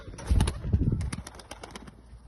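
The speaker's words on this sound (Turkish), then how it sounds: "Ve arkadaşlar kümesin en değerlerimi, en değer verdiğim kuşlarım burada." Pigeons in a village coop cooing in soft, repeated low murmurs with a few flutters, close and fairly quiet, with no talking.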